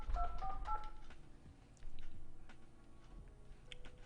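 Telephone keypad dialing tones play as a quick run of several beeps, fairly faint, with some light clicks and background noise after them.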